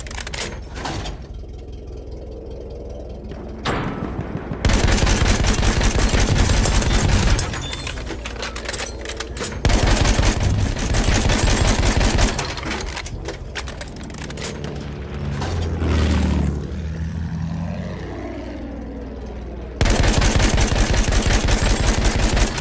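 Sustained bursts of machine gun fire in the World War I shooter Battlefield 1, loud and close with rapid rattling rounds broken by short pauses and mechanical clatter.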